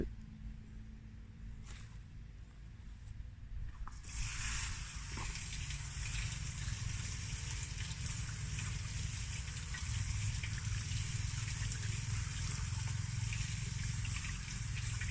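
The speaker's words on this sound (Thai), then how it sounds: "เปิดก๊อกน้ำให้น้ำไหลผ่าน" Tap water runs steadily over black mushrooms being rinsed clean of soil, a quiet trickle that swells into a constant, fuller gush after a few seconds and continues without pause.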